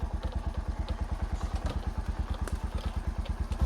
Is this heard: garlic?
no